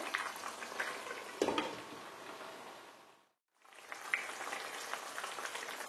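Meat cooking down in a pot for Bangladeshi haleem, a steady bubbling sizzle with occasional stirring clatter, briefly cutting to silence before resuming, close and fairly quiet.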